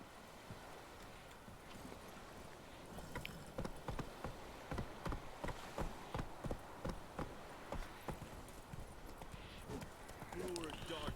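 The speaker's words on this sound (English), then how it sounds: "Full gallop." Hooves clip-clop in a steady galloping rhythm as a horse runs in The Witcher 3, the beats growing stronger midway, with quiet voices talking over them.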